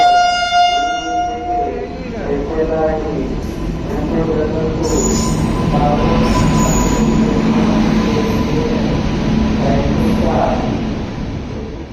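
A train rumbles along steadily with broadband rattling noise and a faint high squeal, while a person talks over it throughout.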